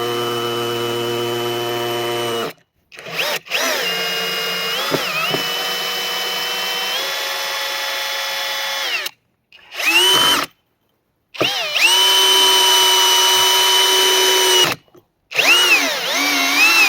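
A Bosch cordless hammer drill runs in several bursts of steady, high whine, with short pauses between runs and a brief stop-start in the middle.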